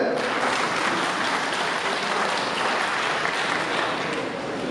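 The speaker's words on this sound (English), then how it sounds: "Let's clap for yourself." A room of teachers and school principals at a training session claps for themselves, a steady, even wash of applause continuing throughout without a break.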